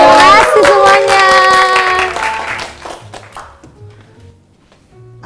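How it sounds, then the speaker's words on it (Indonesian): A crowd claps and cheers loudly for the performer Ovy, a dense burst of applause at first that fades over a few seconds into quieter scattered sound. "Tepuk tangan buat Ovi dong"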